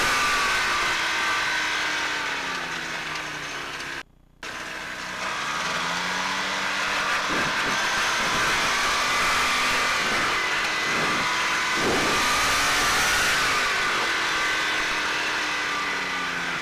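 Engine of a Challenger 2 ultralight airplane with its doors off running steadily at a loud, close drone, its pitch wavering up and down, with a brief dropout partway through.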